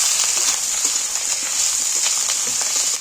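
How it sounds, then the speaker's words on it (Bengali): Garlic and ginger paste frying in oil while being stirred, cooking for an egg and jackfruit curry; a steady, close sizzling hiss with fine crackles runs unbroken throughout. "এক চামচ রসুন বাটা দিচ্ছি এক চামচ আদা বাটা দিচ্ছি আমি এটাকে একটু নেড়ে নিচ্ছি তেলের মধ্যে"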